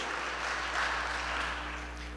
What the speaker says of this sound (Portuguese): Então vai, nova criatura, aplauda o Senhor.